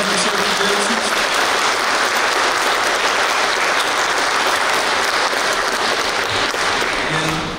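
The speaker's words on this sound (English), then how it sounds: "Definitely want to give this group a big round of applause." Steady, loud audience applause fills a senior awards ceremony at a high school, a dense continuous clapping from a large crowd that holds evenly throughout and tapers slightly at the end.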